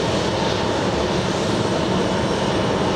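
Air Force One, a large jet, departs JFK airport with a loud, continuous broadband engine roar that holds steady and close.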